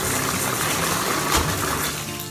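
Hot water with Himalayan bath salt swished around in a container, a steady close sloshing and splashing wash that holds level throughout with no talking.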